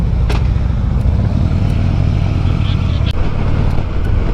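A motorcycle rides along a road on a rainy, foggy tour in Gangwon Province, Korea, its engine giving a loud, steady drone with rushing wind and road noise up close, and a voice speaks over it.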